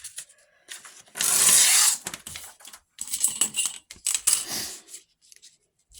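Craft paper being torn by hand at a desk: close, loud ripping bursts with a long tear and several shorter rustling rips separated by brief pauses.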